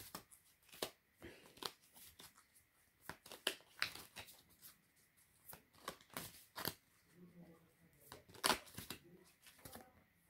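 Oracle cards being shuffled and drawn for a haiku reading, giving soft, intermittent papery riffles and slides in short bursts, close and quiet, alone.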